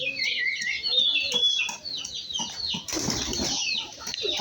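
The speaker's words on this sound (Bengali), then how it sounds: "আর এই যে কবুতরগুলো ছড়িয়ে পড়েছে ওইদিকে" A flock of pigeons flaps up and scatters close by, giving quick fluttering wingbeats, soft chirps and clucks, and a louder burst of wing noise late on, with little talk.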